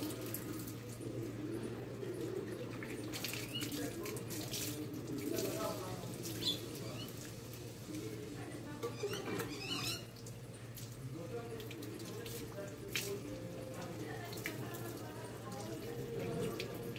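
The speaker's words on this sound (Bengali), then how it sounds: "ভালো করে জল দিয়ে পুরোটা ফেনা যেন ধোয়া যায়" Water running while shampoo is rinsed out of hair at home, a steady faint flow with splashes and drips, birds chirping in the background.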